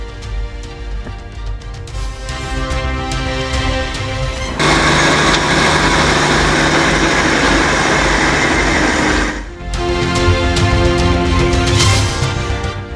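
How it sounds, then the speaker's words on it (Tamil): A JCB excavator engine runs while clearing piled snow in Sonamarg. The motor drones steadily, then surges into a louder, harsher roar for several seconds before dropping back and rising again. "ஜேசிபி வாகனம் கொண்டு முழுவீச்சில் நடைபெறும் சீரமைப்பு பணிகள்"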